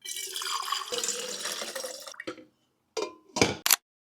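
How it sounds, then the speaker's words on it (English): Water pours from a tap into a cup being refilled, a steady close stream for about two seconds, then stops, followed by a few short separate bursts of running water. "I'm going to refill my cup of water."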